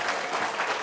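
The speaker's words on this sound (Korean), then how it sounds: "박수하겠습니다" A church congregation at a Christmas Sunday service breaks into loud, steady applause for the children. The clapping is continuous, with no voices heard over it.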